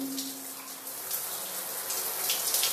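Running shower water in a home bathroom, a steady hissing spray with faint splashes, close and continuous for a few seconds with no voices.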